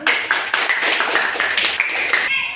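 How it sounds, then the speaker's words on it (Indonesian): Students in a classroom clap together in a brisk, rhythmic burst of hand claps, close and fairly loud, ending abruptly. "tepuk tangan dulu biar semangat"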